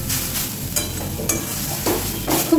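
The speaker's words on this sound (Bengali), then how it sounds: "আমি একটু ভালো করে ভেজে নিচ্ছি, বেশিক্ষণ ভাজতে লাগে না" Grated carrots sizzle in a hot pan for carrot halwa, with a steady frying hiss broken by scraping stirs of a spoon against the pan.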